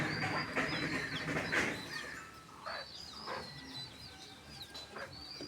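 Tiny newly hatched chicks peeping in a rural yard, thin high chirps repeating in short bursts, close by and moderately loud over a light background hiss.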